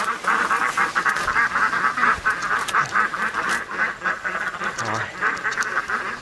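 Flock of ducks chased by a dog, quacking in a dense, continuous, agitated chorus at close range, with a person briefly speaking over the noise.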